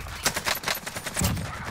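Rapid bursts of gunfire in a first-person shooter game rattle in a quick, uneven string of sharp cracks, with a heavier thump near the end.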